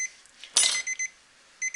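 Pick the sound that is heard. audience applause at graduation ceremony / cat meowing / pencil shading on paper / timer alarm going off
timer alarm going off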